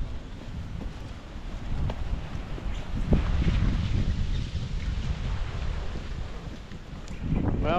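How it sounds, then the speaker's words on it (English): Wind blowing steadily outdoors on a cold, clear winter day, a continuous low rushing roar buffeting the microphone, swelling and easing in gusts with no clear pauses. "other than it being windy"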